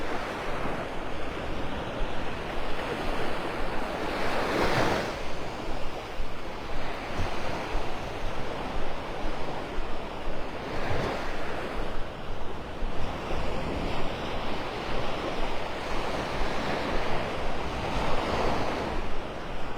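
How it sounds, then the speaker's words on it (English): Ocean surf rolls steadily onto the beach at Delnor-Wiggins in North Naples, Florida, a continuous roar with swelling wave crashes every few seconds, mixed with wind buffeting the microphone, no talking. "Those waves seem to be picking up here."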